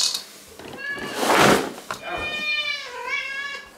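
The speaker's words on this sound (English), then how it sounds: "However, I will feed the cats." Hungry house cats meow insistently before being fed, several drawn-out, rising cries in quick succession, close by, with a person talking to them between the calls.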